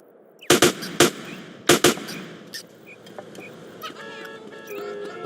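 Several sharp gunshots from Grand Theft Auto: San Andreas ring out near and loud, two close pairs in the first two seconds, followed by quieter game ambience with faint tonal beeps.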